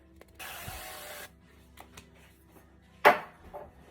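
Cooking spray hisses onto a baking dish for baked spaghetti in a home kitchen: one close, steady spray lasting under a second, followed by light clattering and a sharper knock of dishware.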